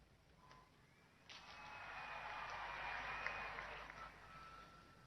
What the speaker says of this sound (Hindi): स्टेडियम में बेटियों की तालियों की गूंज बहुत तेज हो रही है